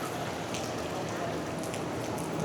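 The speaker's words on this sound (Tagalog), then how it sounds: "Lakas ng ulan." Heavy monsoon rain pours steadily in Boracay, a dense, constant hiss of drops on surfaces with no pauses, loud and close throughout.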